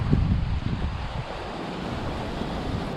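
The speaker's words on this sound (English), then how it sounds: "all of a sudden this wind started kept kicking up out of nowhere" Strong gusty wind buffeting a microphone outdoors, a steady low roaring rumble throughout, loud and close, with no voices.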